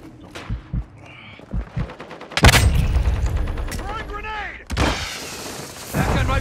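Gunfire rings out in Modern Warfare 2 Warzone 2.0, with a sharp, loud blast followed by a ringing tail and further shots and impacts in a busy battle mix, and voices speaking briefly early on.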